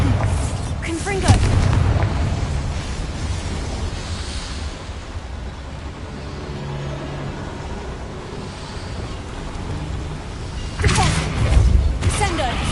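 Spell blasts from Bombarda and Confringo in the Hogwarts Legacy video game, cast inside a small mine, ring out as two loud booming bursts near the start and end, with a low rumbling roar between them.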